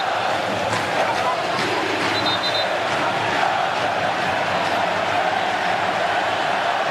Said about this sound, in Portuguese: Olha a festa da torcida do Galo,